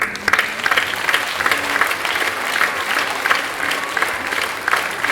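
An audience at a mayor's New Year speech applauds the volunteers, with steady dense clapping from a crowd that holds evenly throughout.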